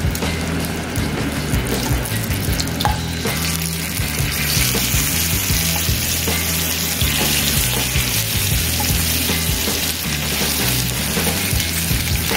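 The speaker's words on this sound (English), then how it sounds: "hear that wonderful sizzle, this bacon rendered down a lot of fat as it cooked" Homemade bacon sizzles and crackles steadily in a skillet over medium heat, a loud, dense frying hiss with constant popping throughout.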